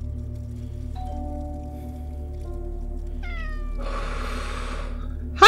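A cat in a horror video game set at a lodge getaway meows a few times over a low steady hum and patter, with a sudden louder sound cutting in at the very end.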